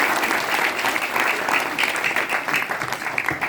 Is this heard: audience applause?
yes